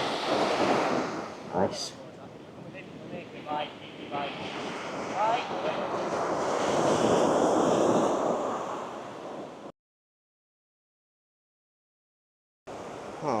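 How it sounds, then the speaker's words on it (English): Ocean surf rolls in at Balangan Beach near Uluwatu, Bali. The steady wash of waves is buffeted by wind on the microphone, a voice speaks briefly, and then the sound drops to silence for a few seconds. "Beautiful emerald green ocean."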